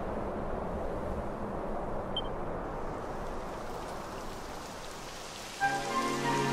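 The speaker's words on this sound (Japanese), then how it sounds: "やだ、雨が降ってきたわ。" Rain falls in a Dragon Quest game scene, a soft, even patter of drops on surfaces running steadily throughout, with a few faint musical tones entering near the end.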